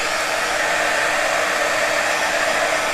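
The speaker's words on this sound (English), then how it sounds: "I'm going to add some heat tool here." A heat tool blows hot air to dry craft tissue paper. It makes a steady, loud, close whooshing hiss like a hair dryer that continues without a break and has no talk over it.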